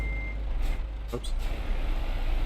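Reversing beeps from a truck in a trucking video game, a brief high tone heard near the start and again midway over a steady engine rumble, with a faint voice in the background.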